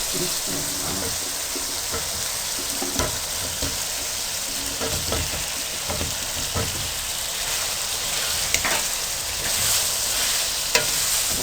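Potatoes hiss and crackle in a pan with tomatoes, frying at a steady close sizzle broken by scattered spatula scrapes and taps.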